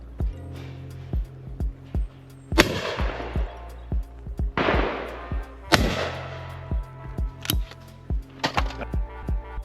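Shotgun blasts from a Rizzini BR240 fired at clay targets on a shooting ground. Four or five loud, sharp reports ring out with echoing tails, spaced a second or two apart over a steady run of quick ticking clicks.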